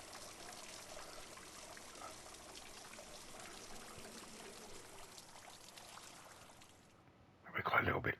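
Liquid pouring in Brewmaster beer brewing game on PS5, a soft steady trickling stream running quietly for several seconds before a louder splashing burst at the end.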